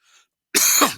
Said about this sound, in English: Excuse me while I cough my lungs up